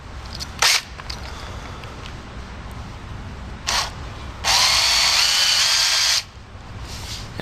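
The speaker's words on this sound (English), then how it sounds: "So we're going to drill it out from the back." A drill bores through metal in a sustained high whine lasting nearly two seconds, preceded by a few short bursts, amid a steady background hiss.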